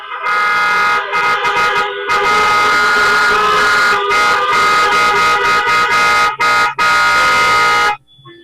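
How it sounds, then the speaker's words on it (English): Many car horns honk together at an outdoor drive-in cinema, loud, dense and sustained blasts overlapping for about eight seconds with brief gaps, then cutting off abruptly near the end. "Can I get some more honks for the director and his amazing cast?"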